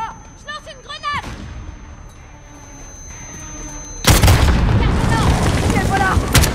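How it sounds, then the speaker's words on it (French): A grenade goes off in the shooter game Call of Duty Modern Warfare, a loud booming blast that bursts in partway through after quieter gunfire and shouted voices, leaving a dense rumbling wash with more shots underneath. "Je lance une grenade!"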